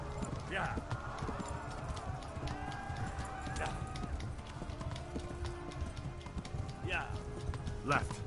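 Steady clip-clop of horse hooves at a quick gallop in Kingdom Come: Deliverance, with voices speaking over the rhythmic thudding.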